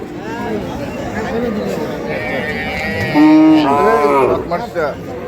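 Cattle moo loudly and close by at a village livestock market where dairy cows of Sahiwal, Sindhi and local breeds are sold, drawn-out lowing calls rising over steady crowd chatter and people talking nearby.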